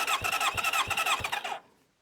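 The starter cranks a 1993 Kawasaki ZZR600 motorcycle engine during a compression test, giving a rhythmic churning with about four regular compression thumps over a second and a half before it cuts off into quiet.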